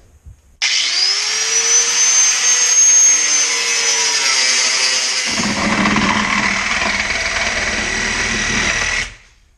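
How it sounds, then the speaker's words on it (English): An angle grinder cuts away rusted metal on an FJ80 Land Cruiser body. The high, steady whine runs loud and continuous for about nine seconds, and its pitch drops into a rougher, grittier grind partway through as the disc bites deeper. "we'll go ahead and take the angle grinder and cut around all the rust"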